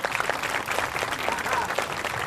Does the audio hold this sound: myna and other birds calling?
no